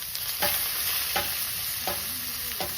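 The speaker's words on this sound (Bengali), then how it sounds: "মাছ ভাজার তেল আছে ওটা রান্নাটা হয়ে যাবে তেলের মধ্যে দিচ্ছি পাঁচ ফোড়ন" Panch phoron spices sizzle steadily in hot oil left over from frying fish, with a spatula scraping and stirring the pan about four times in an even rhythm. No one speaks.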